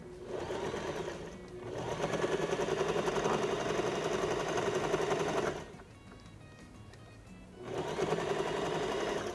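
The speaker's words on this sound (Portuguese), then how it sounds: "Pode fazer uma segunda costurinha aqui para deixar ela com acabamento mais bonitinho" A sewing machine stitching fabric for a jewelry organizer, a rapid mechanical whirring chatter in two long runs separated by a short pause, heard close up and alone.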